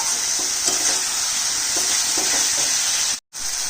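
A pan of fried, spiced potatoes sizzles and hisses loudly and steadily after a little water goes in, with faint stirring scrapes and a very brief dropout near the end; no voices.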